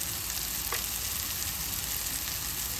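Masala spices frying in a pan for masala pasta, a steady close sizzle with a brief stir partway through, no talking.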